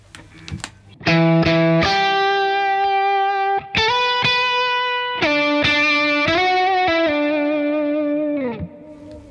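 An electric guitar runs through a BOSS OC-5 octave pedal with reverb and delay, playing sustained distorted lead notes that step between pitches with thick octave doubling and ringing tails, loud and alone.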